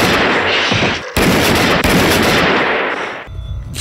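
Gunfire from the 1979 horror film Phantasm: loud, dense bursts of shots filling nearly four seconds, with a brief gap near the one-second mark, fading at the end.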